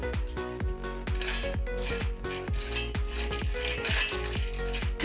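Seeds being stirred in a pan over heat to draw out oil for a black hair oil: steady, rhythmic scraping and clinking of a utensil against the pan, about two strokes per second, close and clear.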